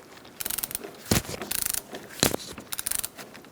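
Near, steady ratchet clicks come in short runs while a strut bolt on a 2004-2009 Mazda 3 is cracked loose, broken by two sharper, louder snaps partway through.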